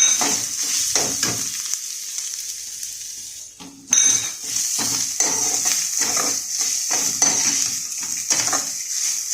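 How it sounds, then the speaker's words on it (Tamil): Grated coconut lightly roasting in a pan, a soft continuous sizzle with repeated scraping strokes of a spatula and occasional metallic taps, briefly dipping before resuming. "இந்த தேங்காயும் பூவாக திருகி அதில் போட்டு கொஞ்சம் லேசாக வறுத்துக்கணும்"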